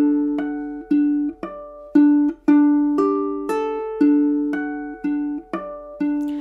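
Fingerstyle ukulele playing, with plucked notes and ringing harmonics in a slow, even pattern, each note decaying cleanly in a quiet room with no voice.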